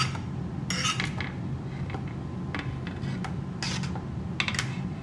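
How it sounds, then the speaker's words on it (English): Potato pieces set down one after another onto an oiled pan, giving soft scattered clicks and light taps over a steady kitchen background hum. "now I'm going to place these onto my pan, which I have already oiled"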